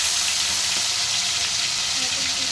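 Amudi fish frying crisp in hot oil in a pan, giving a loud, steady, unbroken sizzle throughout the short stretch.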